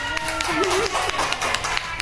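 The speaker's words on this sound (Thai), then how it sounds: "ปรบมือให้เป็นกำลังใจเพื่อนหน่อย" Primary school children clapping in a classroom to encourage a classmate, a loose patter of many small hands under a voice, short and close.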